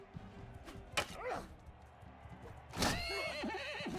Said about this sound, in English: there goes another horse